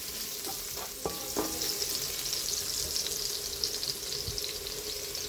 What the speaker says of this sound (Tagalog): Gisa muna natin to.